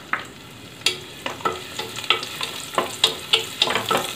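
Spring onion bulbs dropped into about three tablespoons of hot oil for Chinese noodles, sizzling and crackling steadily with repeated sharp stirring scrapes and taps over the fry, close and clear with no talk.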